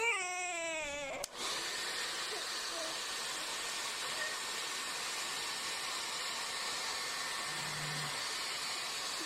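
A baby's wavering cry cuts off abruptly, replaced by a steady, loud airy whoosh of a hair dryer running continuously.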